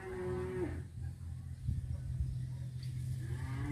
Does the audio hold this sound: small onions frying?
no